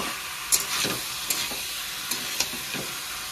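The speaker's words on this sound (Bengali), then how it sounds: "এটাকে ভালো করে একটু নেড়ে চেড়ে নেব।" Small Ganges mourala fish curry cooks in a frying pan with very little oil, giving a continuous low sizzle broken by several sharp scraping stirs of a spatula against the pan at an uneven rhythm, with no voices.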